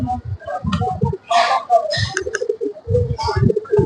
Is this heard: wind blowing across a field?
no